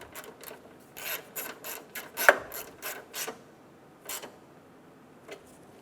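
A ratchet snugs down a 10mm alternator bolt on a 2007-2012 Nissan Altima: a series of quiet, close clicking bursts with brief pauses between, alone without talk.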